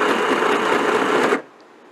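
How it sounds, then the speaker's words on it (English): A home sewing machine runs on its low speed setting with a steady, close whirring hum that stops abruptly after just over a second, leaving quiet room tone. "We're only sewing on low so far."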